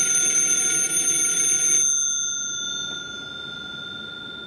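A Western Electric 202 desk telephone's bell rings loud and close for under two seconds, then stops and lets a ringing metallic tone decay slowly.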